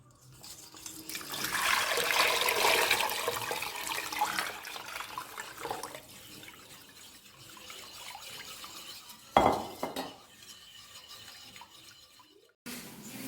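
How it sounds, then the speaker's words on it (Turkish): Water being poured into a drink for a home dinner, a steady close splashing pour that trickles and fades, then a brief clink and a short burst at the end, with no voices. "şimdi ben suyunu ekleyeyim"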